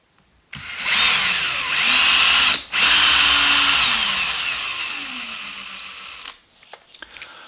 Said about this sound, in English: and then drill all the way through.